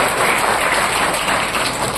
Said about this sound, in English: A big round of applause for each one of them.